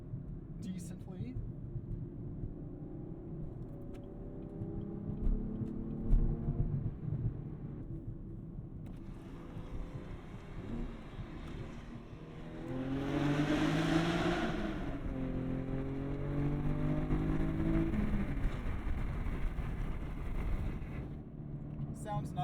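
A modded V6 2019 Camaro 1LE driving, its engine and exhaust giving a steady droning rumble that rises into a raspy rev partway through, with someone talking over it throughout.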